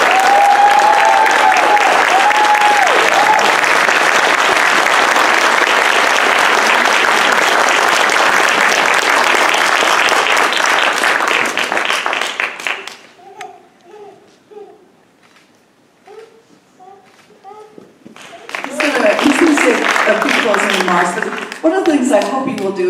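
An audience at a startup challenge finale at CSUMB's Institute for Innovation & Economic Development gives an honoree a long, loud round of applause with crowd chatter, which breaks off to near silence before a second burst of clapping and voices.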